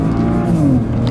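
A 2007 BMW 335xi accelerates hard on a racetrack, its engine note loud and close, a strained drone that climbs steadily in pitch as the revs build.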